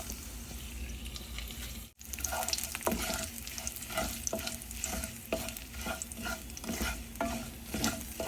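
Green chilli, grated ginger and curry leaves are stirred in a hot pan with a steady sizzle, while the spoon scrapes in repeated, regularly spaced strokes close up. There is no talking.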